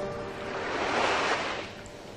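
Sea waves wash up onto a sandy shore in a single swelling surge that builds, peaks and recedes into a soft hiss, moderately distant, with no voices.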